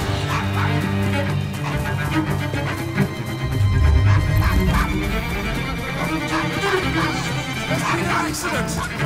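Dog barking and yipping in the video game Assassin's Creed Syndicate, a run of close, loud barks over a steady game soundtrack, with a whimpering quality in places.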